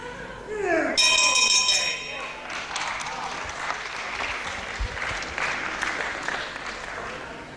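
Audience applause at a boxing match between Robbie Baron and Julien Maurice, with a ringing bell near the start and a ringside commentator talking over the steady clapping.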